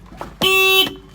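Horn of a 2018 Ashok Leyland Dost Plus BS4 light truck, one loud, close, steady blast lasting about half a second, preceded by a faint brief voice.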